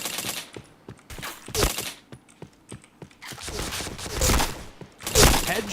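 Rapid bursts of MP7 submachine gun fire in a shooter video game, sharp repeated cracks coming in clusters with short gaps, loud and close, with game sounds in between.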